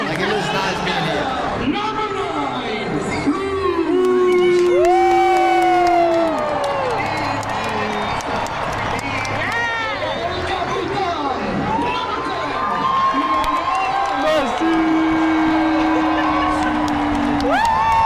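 A large crowd at an American football game cheers and shouts, with whoops and rising yells over a constant roar of chatter, heard from within the stands at close range under nearby talking.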